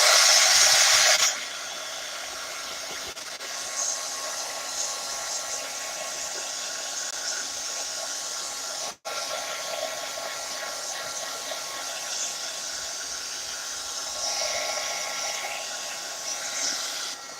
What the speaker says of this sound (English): I'm going to run the heat gun over this real fast.